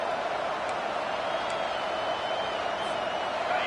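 A home crowd at a Texas A&M football game roars continuously, a dense, even wall of cheering with faint whistles rising over it, steady and loud throughout.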